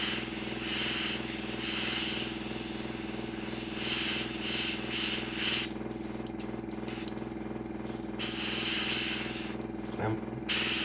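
An airbrush spraying Mission Model paint gives a steady, loud, close hiss that runs the whole time with slight pulses, and a voice speaks briefly underneath.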